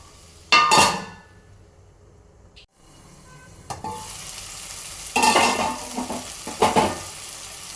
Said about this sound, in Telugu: ఇది వేసినంతా మళ్ళీ ఒకసారి కలిపేసి మూత పెట్టేద్దాం.